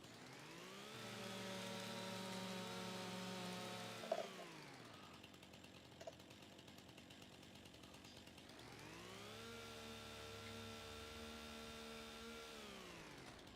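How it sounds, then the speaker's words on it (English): Simulated chainsaw from Farming Simulator 25 with a lumberjack mod, used as a stump grinder: a steady, loud engine whine that drops away midway, leaving a short quieter gap with a couple of knocks, then revs back up. "Use your chainsaw as a stump grinder."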